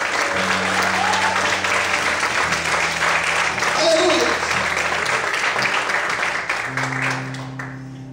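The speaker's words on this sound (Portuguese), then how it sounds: "Você pode aplaudir e exaltar a Deus por isso." A church congregation applauds during a sermon, sustained clapping that fills the room while a voice calls out over it, before the applause fades away.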